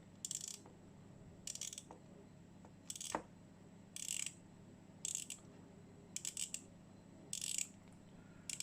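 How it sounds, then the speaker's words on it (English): A Casio Duro MDV106-1A 200 m diver watch bezel is turned in short bursts of crisp ratcheting clicks, about eight quick runs spaced roughly a second apart, close and quiet with no talk. "The bezel sounds really nice."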